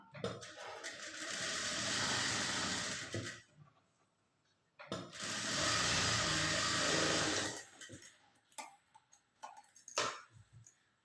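A sewing machine stitches the front cup of a blouse in two long continuous runs, each a few seconds, with a pause between and brief ticking handling sounds at the end.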